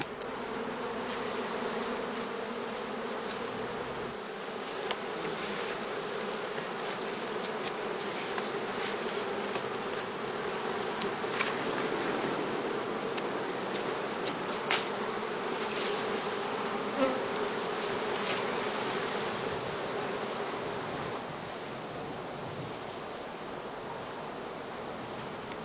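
A continuous swarm-like drone of honey bees around straw skep hives during summer heather blossom, steady and moderately loud throughout, with occasional individual bees flying close by.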